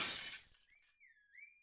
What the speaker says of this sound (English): A shower of glass rains upon the lot as the car horn blares its complaints.